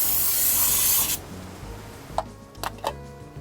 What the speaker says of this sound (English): I'm going to put some brake cleaner in here with a fresh rag cut from my curtains